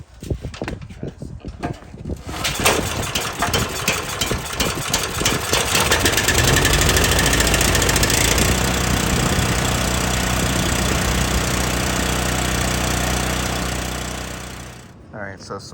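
Small pressure washer engine cranks and starts, then runs steadily at a loud, constant rough drone close by for about twelve seconds before dying down at the end.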